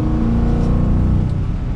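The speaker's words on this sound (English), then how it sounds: "we get that V8 exhaust note" A 2022 Ford F-150 Lariat FX4 with a 5.0L V8 under way on the road, its exhaust giving a loud, steady, deep engine drone that swells slightly as it pulls, with no talking.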